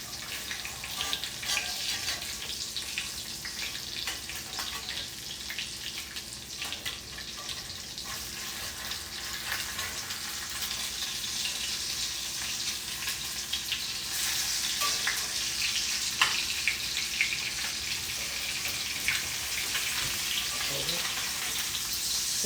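Food sizzling steadily in a pan after being flipped, likely eggs or meat cooked at home, a continuous close frying hiss with occasional scrapes and small pops.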